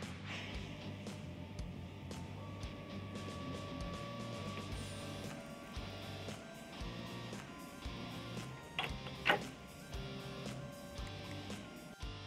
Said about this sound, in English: press the datum button, and your machine will now move for the first time in your shop